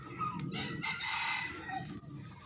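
Chickens on a farm on an overcast morning, a rooster crowing and hens clucking nearby in a steady, busy mix.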